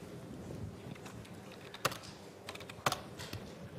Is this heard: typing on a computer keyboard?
yes